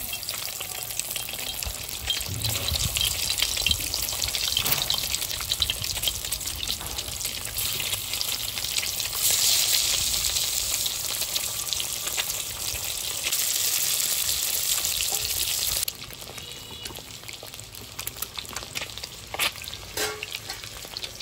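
Halved eggs frying in hot oil, seasoned with turmeric and salt, give a loud, dense, continuous sizzle and crackle that swells midway, then drops to a softer spatter near the end.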